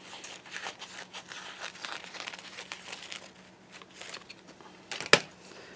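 Paper being cut for scrapbooking, soft crinkling and rustling handling sounds throughout, close and quiet, with one sharp snip or crunch near the end.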